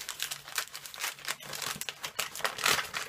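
Plastic wrapping of a Lush Frozen bath bomb crinkling and rustling in quick, close bursts as it is opened by hand, fairly quiet with no talk.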